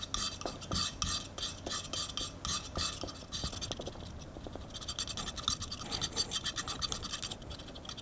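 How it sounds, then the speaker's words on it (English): Urushi lacquer being stirred together with rice glue, a close, quiet scraping and tapping of a tool working the sticky paste in quick irregular strokes, with no talking. "A little bit of urushi, some rice glue, mix it together."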